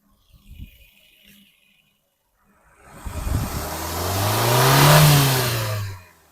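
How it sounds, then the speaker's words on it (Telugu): A 2020 Maruti Baleno Delta petrol car engine revs up from quiet, rising to a smooth, swelling roar that peaks and then cuts off, heard close after a few faint knocks. "నీట్ అండ్ సైలెంట్గా ఉంది ఇంజన్, చాలా నీట్గా ఉంది."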